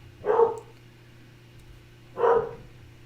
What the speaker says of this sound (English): my dog's going nuts. I know you guys can probably hear it.